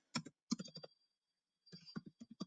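Quiet bursts of computer keyboard typing, a quick run of keystrokes, a pause, then another run of clicks, close and faint with no talking.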